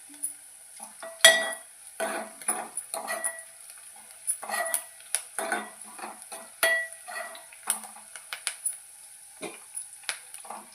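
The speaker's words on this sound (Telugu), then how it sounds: "బ్రౌన్ కలర్లోకి వచ్చే వరకు కలుపుతూ ఉండాలి." A spoon stirs chopped onions and crushed garlic frying in a pan, giving irregular scraping clinks against the metal over a faint sizzle, close and fairly quiet, with no talking.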